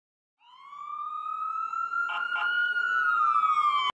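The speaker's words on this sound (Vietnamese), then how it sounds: "Xe cứu thương." An ambulance siren sounds as one long, slowly rising then gently falling electronic tone, loud and clear, with a couple of brief clicks partway through and a sharp cutoff at the end.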